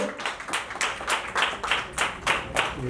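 Wedding guests at a 25th anniversary celebration clap for the bride in a rhythmic, rolling pattern of regular beats, moderately loud and steady, with no speech over it.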